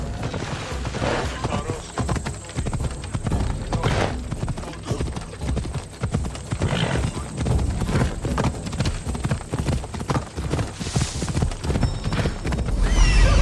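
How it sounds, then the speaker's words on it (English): Steady horse hooves clip-clop throughout in the Assassin's Creed Odyssey game world, a sturdy horse trotting close and loud, with a brief whinny and some faint game sounds in the background. "Looks like a sturdy horse."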